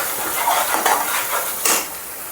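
Masala paste for mushroom curry frying in oil in a pan, a steady soft sizzle with scraping and stirring clinks of a utensil against the pot, no talk.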